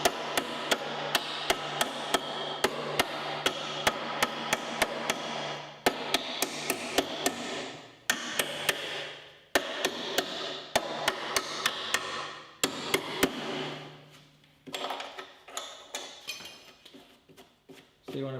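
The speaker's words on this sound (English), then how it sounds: "You guys can use a hand chisel too if you don't have an air chisel." A big hammer drives a hand chisel through the sheet-metal panel of a 1959 VW Beetle under restoration. Loud, close metallic strikes land in rapid rhythmic bursts with short pauses, ringing off the panel.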